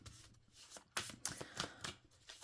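Tarot cards being shuffled by hand, a run of crisp riffling bursts close up, loud and distinct with short pauses between, no talk.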